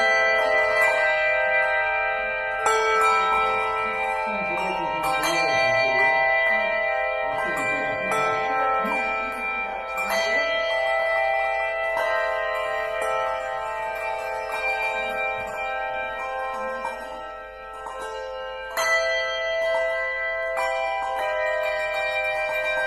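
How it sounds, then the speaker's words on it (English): A hand-held bell is struck again and again while being swung and moved around, each strike leaving a bright, sustained ringing tone that shifts as the bell travels, with fresh strikes every few seconds. "play with moving the bell around to see how different it sounds as you're moving it"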